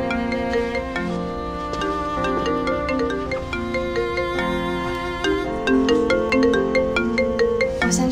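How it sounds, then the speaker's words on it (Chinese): A melodic phone ringtone plays steadily for several seconds, bright repeating synth tones with a bass line, loud and alone without any voices. "我先去接个电话，你先收拾会儿。"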